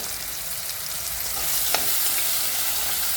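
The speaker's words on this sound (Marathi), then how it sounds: "भिजलेली डाळ आणि दाणे आधी तेलावर थोडे परतले" Soaked lentils and peanuts sautéing in hot oil with tomato, a dense continuous sizzle close up, with a brief stir clink midway.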